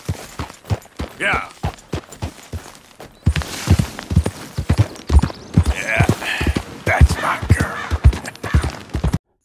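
Horse hooves clip-clop in Red Dead Redemption 2, steady sharp footfalls from a walking horse at close range that quicken slightly midway, with a voice talking quietly underneath at times.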